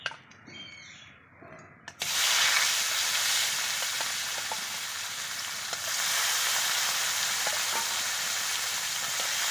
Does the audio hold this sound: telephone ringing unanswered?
no